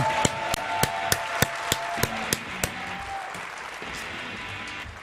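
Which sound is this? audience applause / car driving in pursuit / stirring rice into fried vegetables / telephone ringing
audience applause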